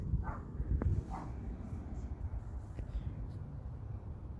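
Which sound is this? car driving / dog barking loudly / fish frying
dog barking loudly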